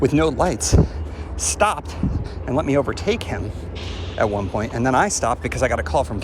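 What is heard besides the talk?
No everyday noises stand out.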